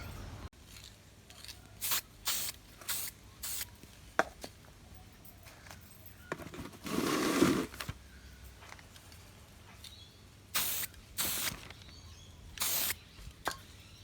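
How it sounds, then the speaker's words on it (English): Short hissing bursts of aerosol spray paint come in uneven pulses, one longer spray in the middle, with quiet pauses and light handling noises between them. "now I'm just going to spray the outside"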